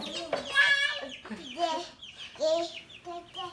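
Several chickens cluck and squawk in short bursts close by, with a few brief pauses between calls.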